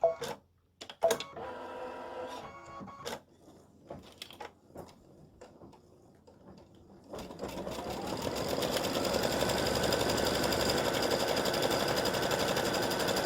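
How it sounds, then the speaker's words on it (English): Scattered clicks and taps come first, then an embroidery machine starts stitching a tack down onto stabilizer, settling into a steady, fast mechanical chatter that grows louder and continues to the end. "my first stitch is just the tack down to tack the fabric down to the stabilizer."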